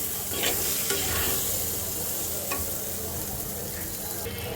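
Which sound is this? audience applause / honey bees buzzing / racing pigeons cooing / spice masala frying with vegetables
spice masala frying with vegetables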